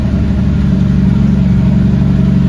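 A dump truck hauling sand hums with a steady, loud mid-to-low engine drone that holds even throughout, with no talking.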